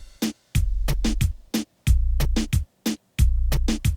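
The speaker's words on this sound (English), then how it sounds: "So the drums all together for the chorus sound like this." A chorus drum pattern for a reggaeton-style beat, programmed in Studio One: punchy snare hits, a reverse cymbal swell, an airy crash and deep bass notes. It plays as a loud, steady, rhythmic loop with no talk.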